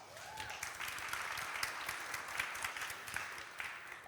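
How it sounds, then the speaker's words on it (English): A conference audience at an opening keynote applauds event and media partners, a soft, distant wash of many hands clapping steadily with a few sharper claps standing out. "so a big applause for them as well"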